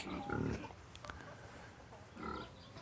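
Farm pigs grunt and oink in two short bursts over a low background of shuffling and rustling in the pen, fairly faint and without talk.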